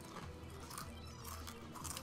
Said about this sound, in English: Thank you for the for the near microphone chewing.